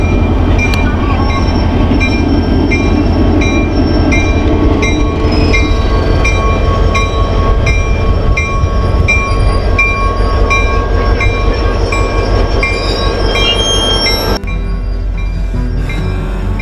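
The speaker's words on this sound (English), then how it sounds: "Now we're going to take a train." A train rolling on rails in Las Vegas, Nevada gives a loud, steady, close rumble with a whining tonal drone and clattering wheel noise, easing slightly near the end.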